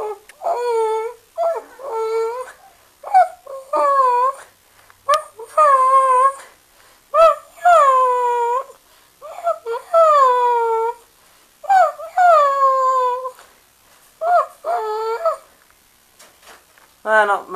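A person whines in high, wavering bursts, mimicking a dog. The cries repeat about a dozen times with short pauses between them.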